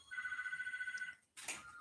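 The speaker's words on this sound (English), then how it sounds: "Oh, now the telephone's ringing." A telephone rings indoors with a rapid trilling electronic bell in one long burst, then stops briefly and starts again, clear and moderately quiet with no talk.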